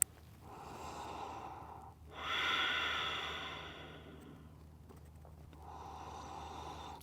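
Slow, audible breathing during a yoga forward fold: a long exhale, a deeper inhale and another exhale, soft and close, each breath lasting a few seconds.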